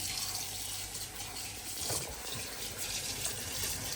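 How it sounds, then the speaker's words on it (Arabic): Tap water runs in a steady, close gush over boiled and drained pasta in a home kitchen sink, with no talking. "هنفتح عليها الميه برده شويه"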